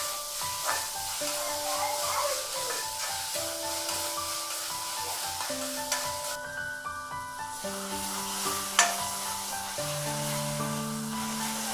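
Siru keerai greens sizzle in a hot pan while being stirred and mashed, a soft continuous frying hiss with light scraping, and gentle music playing underneath throughout.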